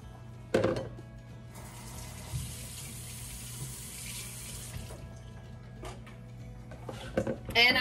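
Water runs steadily from a kitchen tap as an egg spoon is rinsed, with a few clinks and knocks at the start and end of the rinse.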